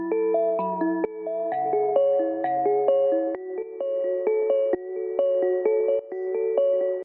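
A quick synth arpeggio runs in sixteenth notes, bright plucked tones stepping steadily through a repeating pattern over a soft sustained low note, clear and alone.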